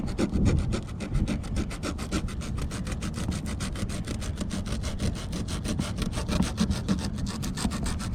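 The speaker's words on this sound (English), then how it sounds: "rough up the surface around the hole where the flange will sit so that there's no paint in the way" Steady back-and-forth sanding scrape on a boat's painted surface around a hole, roughing up the paint where a flange will sit; a close, continuous rhythmic rasping with no talk.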